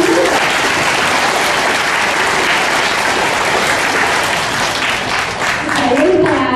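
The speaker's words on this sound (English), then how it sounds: "give them a round of applause before we begin" Audience applause at a high school symphony orchestra concert, loud and sustained clapping from a large crowd filling the hall, with a voice briefly heard near the end.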